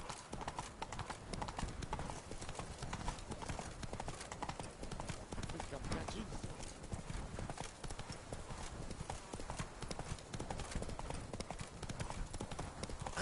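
Horse hooves gallop in a steady, continuous clip-clop through the whole stretch in The Witcher 3: Wild Hunt, Blood and Wine, loud and close over a dense game soundscape, with a brief neigh and a voice heard over the riding.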